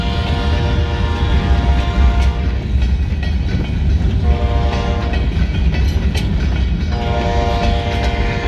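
A diesel locomotive's horn, mounted facing the wrong way, blares loud and close in one long sustained blast over the steady rumble of the passing train and its rolling railcars.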